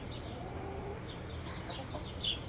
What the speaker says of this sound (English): this is the problem when you have as many chickens as I've had over the years.